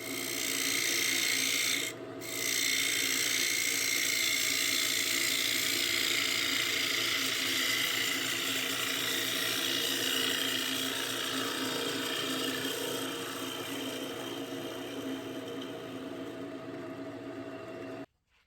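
A bowl gouge cuts the inside of a small wooden snack bowl spinning on a lathe, giving a steady, close, continuous rasping scrape that briefly drops out near the start and runs unbroken to the end.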